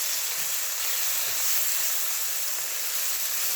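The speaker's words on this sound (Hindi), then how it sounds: "1 टेबल स्पून डालेंगे रेड मिर्च, 1 टेबल स्पून डालेंगे धनिया पाउडर और 1 टीस्पून डालेंगे हल्दी। और मसाले को अच्छी तरीके से भून लेंगे।" Red chili, coriander and turmeric powder fry in a pan with a steady, even sizzling hiss, close and constant throughout without pauses.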